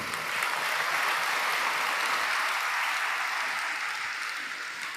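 Audience applause at a Telugu Christian sermon gathering, a dense, steady wash of many hands clapping together that holds for several seconds and tapers slightly at the end.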